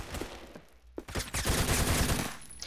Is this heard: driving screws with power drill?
no